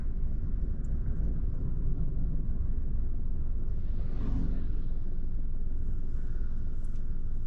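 A Mahindra XUV300 drives at around 120 km/h, a steady deep rumble of road and wind noise from inside the cabin, with a brief whoosh of passing traffic midway.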